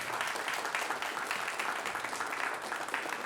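Conference audience applauding a speaker taking the stage, dense steady clapping from a large crowd, even and sustained throughout with no talk.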